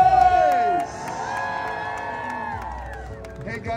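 A street-show crowd in Times Square, New York City cheers, whoops and shouts in one sustained burst, loud and close, with scattered claps and children's voices mixed into the roar.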